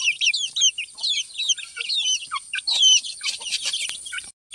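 Two-month-old Aseel cross chicks chirp and cluck in a busy, overlapping chorus of high, quick peeps, fairly close, with no talking.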